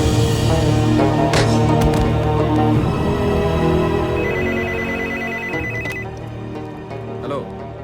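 A telephone rings repeatedly in a tense movie climax scene, its bright electronic trill cycling over background music and voices.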